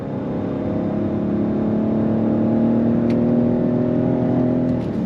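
Steady, loud hum of a Cadillac XT6 Sport's naturally aspirated V6 under acceleration with an automatic transmission, heard from inside as a continuous even drone without clear gear changes or talk.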